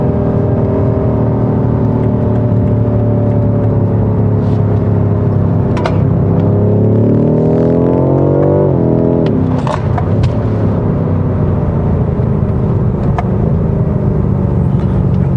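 A BMW M5 Competition car drives with a loud, steady engine drone and layered harmonics that climb and sweep upward as it accelerates, then drop back to a lower rumble, heard from inside without talk.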